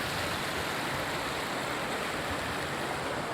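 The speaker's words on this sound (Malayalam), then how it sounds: "അതിനോട് ചേർന്ന തോട് ഒഴുകുന്നുണ്ട്." A stream flows right beside a hillside site, giving a steady, full rushing wash of water that holds constant throughout with no voices.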